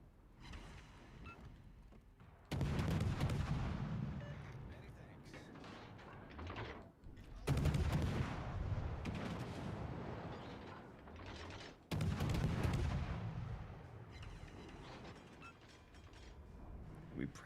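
Ship guns firing in the World of Warships: Legends naval video game: three heavy booming salvos several seconds apart, each with a sharp onset and a long rumbling decay, with quieter stretches between.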